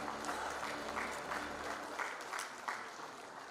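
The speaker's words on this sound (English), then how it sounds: "A big round of applause for our dignitaries for being a part." Audience applause for dignitaries at a maritime industry roadshow and workshop, a steady, fairly distant wash of clapping that holds without a break and swells slightly in places.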